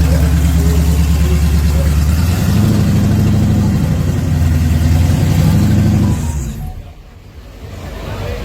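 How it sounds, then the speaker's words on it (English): A stripped-down street race car's engine revs loudly and close, holding a throaty drone with pitch steps, then cutting off abruptly before a quieter engine rumble resumes. "They done turned this thing into a straight damn race car, man."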